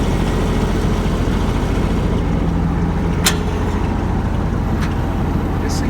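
A Kubota ZD326 zero-turn mower engine running steadily with the PTO engaged, a constant loud diesel drone with a couple of brief sharp clicks.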